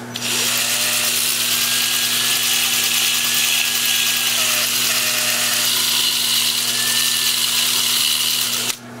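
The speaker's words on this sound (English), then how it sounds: "the brushes just push the sandpaper into the piece" A Sandoflex brush sander sanding a cherry burl winged bowl spinning on a wood lathe, making a loud, steady motor whine with an even abrasive hiss that runs nearly nine seconds before cutting off, no talk.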